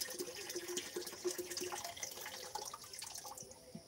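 Water runs steadily from a kitchen tap into a sink, a close continuous splashing gush with faint clinks over it, and no talking.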